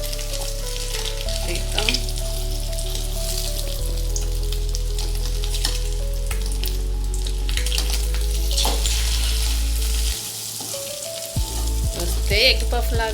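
A boiled egg omelette fries in a pan with a steady, close sizzle under a low musical hum, while a voice speaks briefly near the end.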